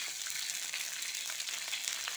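Water poured into a pan of half-cooked milkfish for Cirebon-style pindang bandeng, giving a steady, bright, hissing sizzle with crackly texture, continuous and fairly close, with no talking.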